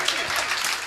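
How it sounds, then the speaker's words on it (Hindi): An audience claps in a dense, steady burst of applause that fills the short moment. "वाह तालियां बजनी चाहिए थी।"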